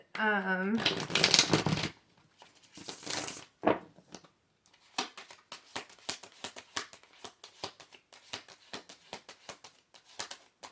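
A voice speaks briefly at the start, then tarot cards are shuffled close by in a rapid series of crisp riffles and flicks.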